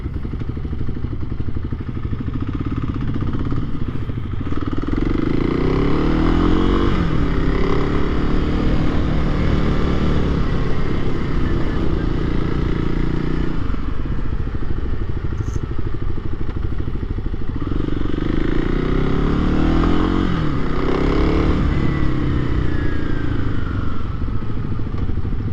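A 2023 Kawasaki KLX300SM supermoto motorcycle drones steadily while riding on a bumpy road, engine revving up and easing back in long swells under wind rush, close and loud throughout.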